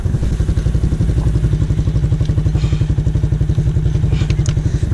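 Off-road vehicles, including a Honda and a Polaris, cross rough terrain at an off-road park with a loud, close engine chugging in a fast, steady pulse and occasional clatter, with no talk.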